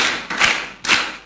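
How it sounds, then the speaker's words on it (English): Two loud, sharp claps from a live audience, spaced about half a second apart, each a broad burst that fades quickly, with no talk over them. "3 strong claps to the grammarian"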